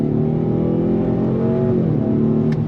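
A 2024 Ford Mustang EcoBoost engine pulls hard under full throttle through a 10-speed automatic, its steady rising drone loud and continuous from inside the cabin, with a brief shift dip near the end and no talk over it.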